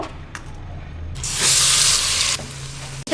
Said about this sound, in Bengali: এবার দিয়ে দিলাম খাঁটি সরিষার তেল। এবার দেব হচ্ছে মেরিনেট করা মাংস।